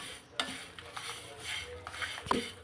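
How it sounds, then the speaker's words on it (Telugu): Curry leaves fry in a pan with a soft sizzle while a spoon stirs them, making scattered scrapes and metallic clinks close by. No voices are heard. "మనము కరివేపాకు కలర్ మారేదాకా వేయించుకోవాలండి"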